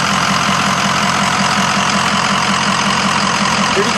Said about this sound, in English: Let me show you the engine compartment.